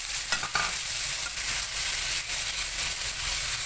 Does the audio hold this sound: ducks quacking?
no